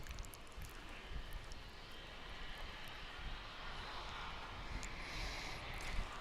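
An American Airlines Airbus A319 jet arriving at DFW International Airport on a flight from Monterrey, Mexico, its engines giving a steady, broad roar that holds at an even level and swells slightly near the end.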